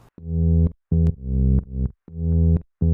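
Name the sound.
bass line with a note dropped an octave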